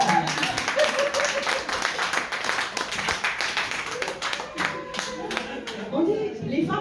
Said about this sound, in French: Est-ce que vous pouvez applaudir pour les femmes qui sont dans cette salle?